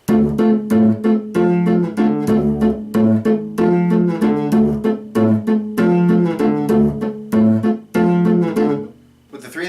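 A looping musical phrase in an asymmetric meter, steady grouped pulses repeating with tonal hits, loud and continuous, with no voices.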